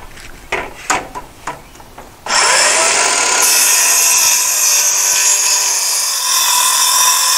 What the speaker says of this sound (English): So I'm going to cut this off to length and then we'll cut it shorter